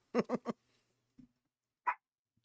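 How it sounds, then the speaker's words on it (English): A dog named Gus Gus lets out three quick barks in a row, then falls quiet apart from one short low woof and a single higher yelp after a pause, fairly close and with no talking over it. "Now the dog is going to start."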